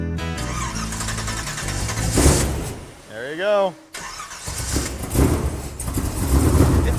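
A car engine with 4-inch exhaust and bullet mufflers, idle for about two years, cranks, squeals and catches, then settles into a loud, steady running rumble close by, with people talking over it.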